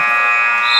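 A basketball game buzzer sounds in a gym at the end of a half, a loud, steady electronic tone held throughout the short clip with no talk over it.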